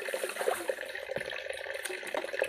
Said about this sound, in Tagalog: Lagyan natin siya ng kaunting tubig.